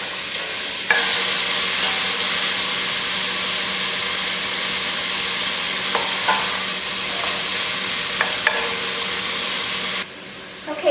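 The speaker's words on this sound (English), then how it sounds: "We're just going to saute these up until the prosciutto is nice and crispy and the red onion is" Prosciutto and red onion sauté in a pan with a loud, dense, continuous sizzle and hiss, broken by a few brief stirring scrapes, then easing slightly near the end, no talking.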